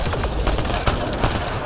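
Gunfire in the video game Mass Effect Andromeda, a quick burst of several rapid shots with booming low end, loud and close over a short stretch.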